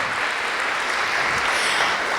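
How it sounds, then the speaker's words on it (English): Audience applause at a journalism talk event, a dense, even wash of clapping hands that stays loud and steady throughout. "May I have a big round of applause for her?"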